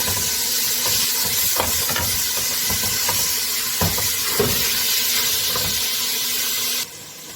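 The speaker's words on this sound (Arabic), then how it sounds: "هنزل بربع كيلو لحمه مفرومه" A quarter kilo of minced meat sizzling in melted butter in a pot for moussaka, a loud steady hiss with small crackles throughout, close up, ending in a sudden drop.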